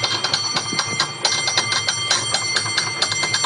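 A San Francisco cable car's bell clangs in quick repeated strikes, close and bright, ringing in a loose rhythmic pattern over steady street and car noise, with no talk.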